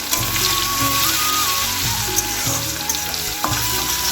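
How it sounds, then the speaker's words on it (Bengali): Chopped garlic sizzles in hot oil already holding whole cumin seeds and two bay leaves, a loud, steady, close frying hiss that carries on without a break, with faint stirring clinks and no voices. "তেলটা গরম হয়ে গেছে এবার একটু রসুন কুচি ছোটো করা দিয়ে দেবো"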